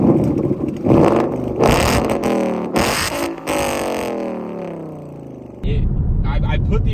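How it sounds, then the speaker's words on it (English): A Ford Mustang GT with an aftermarket Armatrix exhaust revs loudly and close up in repeated bursts, each rev rising and then falling away, followed by the engine settling down. "this Armatrix exhaust has a different sound than any other Mustang that I've ever heard"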